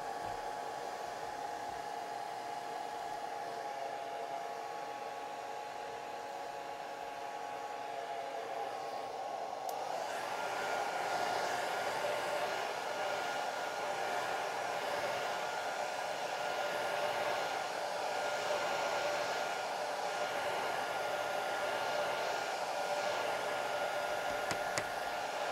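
A hair dryer blowing over a wet watercolor landscape painting: a steady, close whirring hum that steps up to a louder, brighter roar partway through and then holds constant.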